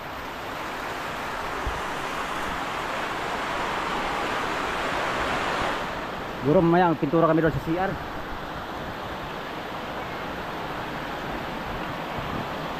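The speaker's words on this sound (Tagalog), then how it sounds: "Malakas ang ulan ngayon mga amigo dito sa amin." Heavy rain falls steadily at a home in the Philippines, a dense, even wash of noise throughout, with a voice speaking briefly over it in the middle.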